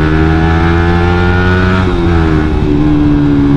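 Honda CB motorcycle engine revs hard while racing on the road, a loud, steady, high-pitched drone that shifts pitch slightly partway through, heard up close.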